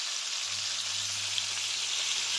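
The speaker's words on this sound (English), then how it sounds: "we're sealing all the meat pieces in, getting the caramelization process" Lamb shoulder pieces searing in a hot pan give off a steady, even sizzle that holds for the whole stretch, with no voice over it.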